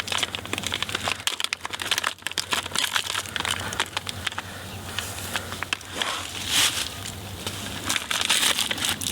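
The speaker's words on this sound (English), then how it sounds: "this is just the 3M knifeless tape here" 3M knifeless tape crinkles and crackles as it is handled and unrolled, a close run of irregular rustles, snaps and small pops with a faint low hum underneath.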